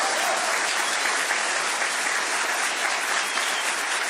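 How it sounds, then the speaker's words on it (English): Sustained audience applause at a Florida bill signing for new crime laws, a dense, steady clapping from a crowd that stays loud and even throughout with no break. "They deserve your round of applause"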